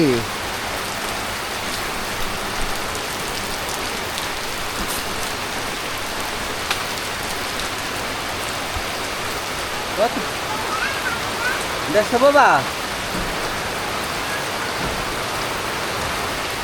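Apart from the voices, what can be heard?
heavy rain falling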